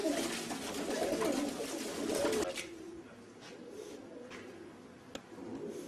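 Racing pigeons in a fancier's loft coo in low, rolling murmurs that are strong for the first couple of seconds, then settle to a softer background cooing with a sharp click near the end.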